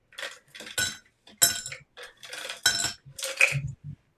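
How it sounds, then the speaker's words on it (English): Ice cubes drop into a cocktail glass while a Malibu coconut rum drink is being built, making a quick series of about eight close, bright clinks and rattles with short gaps between them. "starting with a little ice in the glass"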